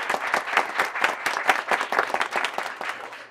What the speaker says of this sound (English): let's give Stephanie a round of applause